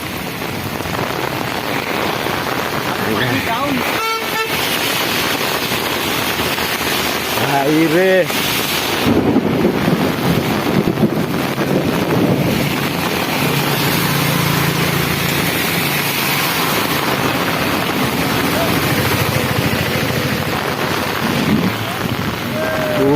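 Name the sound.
heavy rain falling with wind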